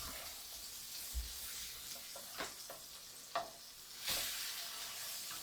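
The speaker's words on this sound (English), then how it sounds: "Let's give our little fishes a flip." Blackened Cajun mahi mahi fillets sizzle steadily in a hot pan, a continuous close hiss broken by a few soft clicks and scrapes as the fish is flipped, followed by a louder burst of sizzling.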